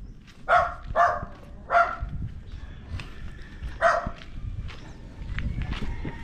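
A dog barks in short bursts, a few sharp barks spaced over several seconds, moderately close, with footsteps and light background noise between them.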